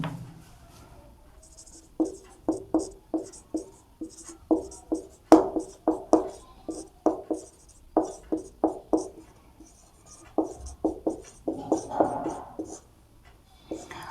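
Pen scratching across paper while a maths solution is written out, a steady run of short, close strokes in bursts with brief pauses, alone without talk.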